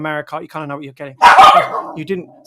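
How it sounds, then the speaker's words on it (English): A pet dog barks once, loud and close, cutting across someone talking, with his speech continuing around the bark. "that's my dog going mental"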